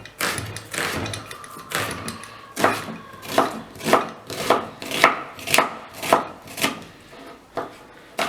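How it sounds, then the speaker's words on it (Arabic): A knife chops onion into small dice on a board, about a dozen sharp, evenly spaced strokes that speed into a steady rhythm, close and clear with no voices. "نقطعو البصل ديالنا دي بتي دي"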